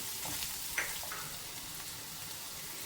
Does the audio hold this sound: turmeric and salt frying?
yes